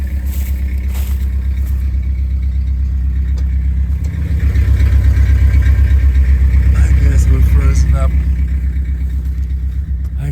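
A car engine idles steadily up close with a smoking exhaust in freezing winter conditions at a campsite, a low continuous rumble that swells slightly louder partway through, with faint talk over it.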